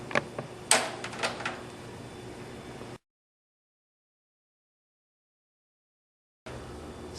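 Plastic tabs on a working Xbox 360 case snap open, giving a few quick, sharp clicks over the first second and a half before the sound drops to silence.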